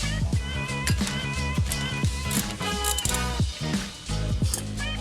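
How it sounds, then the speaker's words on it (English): A wrench with a Torx bit loosening a shock absorber nut on a Peugeot 205, giving a fast run of sharp ratcheting clicks in repeated bursts, close and loud. "You can also use a wrench combined with a Torx bit to remove it."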